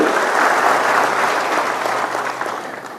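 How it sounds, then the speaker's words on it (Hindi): A large audience at a natural-farming farmers' gathering in Jabalpur breaks into dense, sustained applause, loud and even throughout, slowly tapering near the end. "जरा जोरदार तालियां आपने जल्दी बजा दी"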